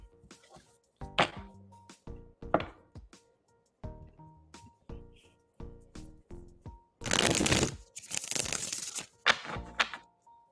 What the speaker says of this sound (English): I'm shuffling for you now, okay?